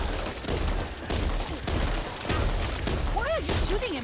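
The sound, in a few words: gunfire in the video game Back 4 Blood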